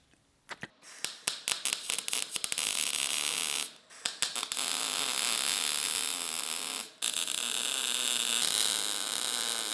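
Welding a steel sword frame: an electric arc starts with short crackling bursts, then settles into a loud, steady buzzing sizzle broken by two brief pauses.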